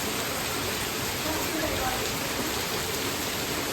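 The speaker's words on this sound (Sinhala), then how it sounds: "මාර වැස්සක් පටන් ගත්තේ 6 මාට විතර." Heavy rain pours down steadily, a dense, loud, even hiss filling the whole stretch with no breaks, rising slightly around the middle.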